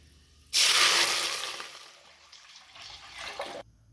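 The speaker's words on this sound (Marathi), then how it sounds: "यामध्ये आता पाणी घालायचं." A stream of water splashes into a pot holding whole spices for chicken dum biryani rice, starting abruptly, loud and rushing at first, easing off midway, then swelling again before cutting off.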